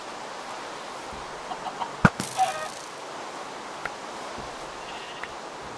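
Minecraft chickens give a few soft clucks under a steady background hiss, with one brief louder burst partway through. No one speaks.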